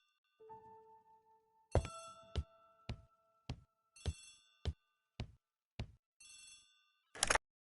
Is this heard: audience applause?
no